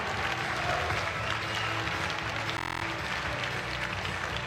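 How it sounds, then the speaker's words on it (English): Crowd applause at a World Games powerlifting medal ceremony, steady clapping filling the hall throughout, with a voice speaking over it. "Proszę brawa."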